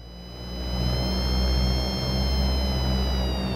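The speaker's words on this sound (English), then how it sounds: "If you hear that whining noise, that is the stall warning notifying you." A steady high stall-warning whine from a Cessna 172 in X-Plane 12, sustained over a loud, continuous engine drone and wind rush, with no talking.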